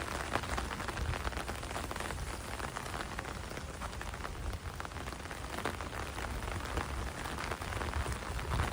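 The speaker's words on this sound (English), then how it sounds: "The rain's starting to pick up again" Steady rain falls throughout a walk in Toronto on a May day, a dense, even hiss of drops on pavement and surfaces with no break, fairly close and continuous, with no voices.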